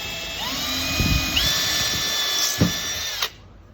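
Cordless power drill driving a screw into a wall while mounting an inline water filter, a few short rising whirs in bursts with brief pauses between them, close and fairly loud.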